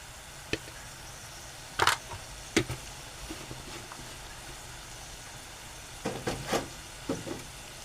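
Mushroom masala stirred and sautéing in a pan, with a soft steady sizzle broken by a few scraping, clattering spoon strokes.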